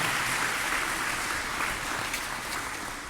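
A crowd applauds at a YMCA expansion ribbon-cutting ceremony, producing an even wash of clapping that is fairly soft and steady throughout with no voices on top.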